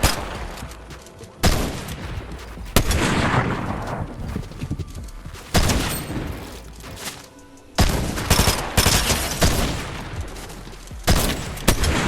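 Gunshots and sniper fire crack through a Fortnite Chapter 5 firefight: loud, repeated bursts of blasts that come in clusters with brief gaps between them.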